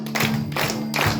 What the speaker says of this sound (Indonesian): Tepuk tangan 4.